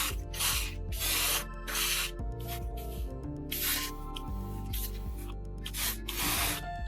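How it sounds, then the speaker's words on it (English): Airbrush spraying primer onto a 1/35 scale model figure, a close hiss of air and paint in repeated short bursts with brief pauses between them, heard alone with no talking. "I'm going to get the airbrush loaded and prime this guy."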